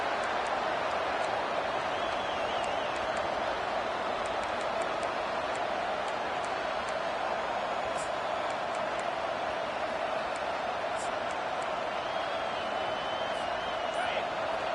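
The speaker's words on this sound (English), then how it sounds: "Listen to this crowd just shaking the girders of this place, trying to help their defense." A college football stadium crowd at Virginia Tech versus Arkansas roars steadily and loudly for the whole stretch, a dense unbroken wall of noise with faint whistles on top.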